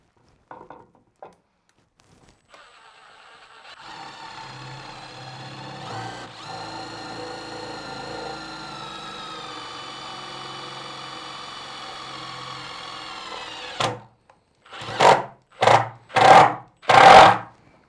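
A power driver runs steadily for about ten seconds as it drives a screw through 18 mm MDF into a 5 mm steel plate. Four short, louder bursts follow at the end.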